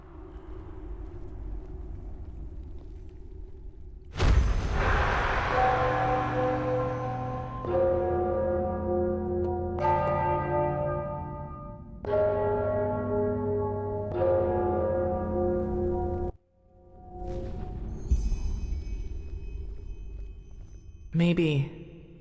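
Bells ringing in the fantasy game Enderal: a series of loud, resonant metallic strikes, each one ringing out and decaying before the next, with a brief pause and a final sharper hit near the end.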